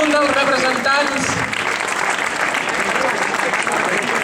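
Steady crowd applause for a giant-dancing troupe at a national giants' dance contest, an announcer talking over the first second before the clapping carries on alone.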